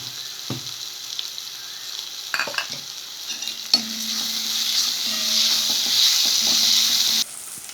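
Tomatoes sautéing in oil in a pan for rasam give off a close, building sizzle and hiss with a few stirring clinks and scrapes early on, then a steady loud fry that cuts off abruptly.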